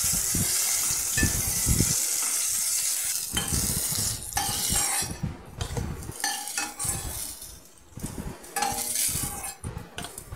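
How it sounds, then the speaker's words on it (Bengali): Brinjal slices frying in hot mustard oil in a frying pan, a steady sizzle broken by repeated scrapes and clinks of a spatula stirring against the pan, close and with no talk. "ফ্রাই প্যানে সর্ষের তেল গরম করে বেগুনগুলো ছেড়ে দিলাম।"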